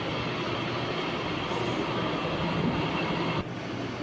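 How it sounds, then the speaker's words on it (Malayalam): A MEMU train departs Punalur station at night, its continuous rumble and wheel roar filling the carriage at an even, steady level from start to finish. "കറക്റ്റ് 7:25 ആയപ്പോൾ തന്നെ നമ്മുടെ ട്രെയിൻ പുനലൂരിൽ നിന്ന് എടുത്തിട്ടുണ്ട്"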